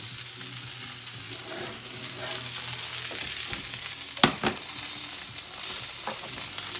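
Steaks searing in a hot pan on a stovetop, a steady broadband sizzle and crackle with a few sharper pops, close and continuous with no talking.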